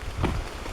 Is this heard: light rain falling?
yes